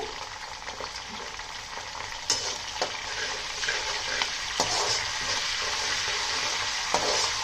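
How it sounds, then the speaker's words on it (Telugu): Green chillies, dried red chillies and asafoetida fry in hot oil with a constant close sizzle and crackle, broken now and then by a sharp tap of a spoon against the pan. "పచ్చిమిర్చి, ఎండుమిరపకాయలు, ఇంగువ ఇవన్నీ బాగా వేయించుకోవాలండి."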